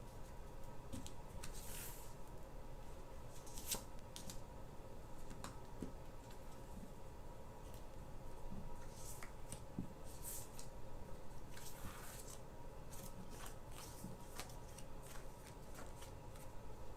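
Tarot cards being shuffled by hand, a continuous run of crisp riffling and flicking bursts close up, steady and unbroken with no talk.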